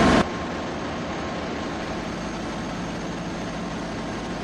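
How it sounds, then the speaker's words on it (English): Generator sets run aboard the container ship MSC Oscar, a loud steady engine roar that holds unchanged throughout with no talking, after a brief louder burst at the start. "The engines you can hear behind me are the gensets that are running to keep the ship's illumination"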